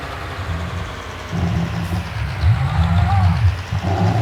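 Big tractor engine driving in the Farming Simulator 19 video game: a loud, steady low diesel rumble that rises and thickens as it revs, continuous and close.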